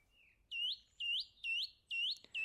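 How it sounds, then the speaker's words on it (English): Four bright, evenly spaced rising whistle chirps of a bird in a children's shadow show about a tiny seed, clear and alone, each ending in an upward sweep, followed by a brief click. "A bird comes along."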